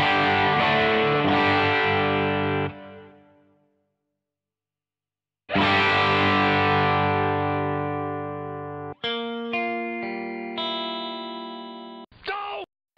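Electric guitar through a Crazy Tube Circuits Hi Power pedal set for classic high-watt amp tone: loud, overdriven chords ringing out and decaying, a pause, then more sustained chords and brighter single-note phrases.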